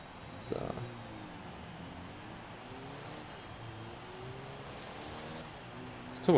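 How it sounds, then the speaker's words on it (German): Turbocharged car in Forza Horizon 3 driving with a steady engine drone, rising and falling gear-by-gear harmonics and a faint turbo whistle, a brief louder burst near the start and a whoosh at the end. "Turbogeräusch ist geil."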